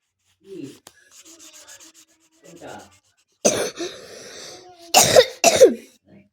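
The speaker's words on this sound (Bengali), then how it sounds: "তাই কাশি হয়েছে আমার।" A few harsh coughs burst out near the end, loud and close, after quieter throat-clearing and soft breathy sounds earlier.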